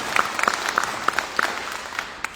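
A small audience at a city candidate forum claps briefly, a thin scattering of separate hand claps with a faint murmur under them, tapering off within a couple of seconds.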